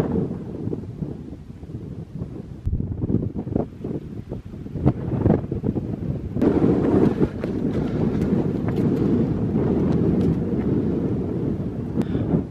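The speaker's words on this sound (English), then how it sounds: "it's pretty windy and the forecast isn't great" Strong wind blusters over the mountains of the Lake District on a solo hike, roaring and buffeting the microphone steadily and growing louder partway through, with no voices.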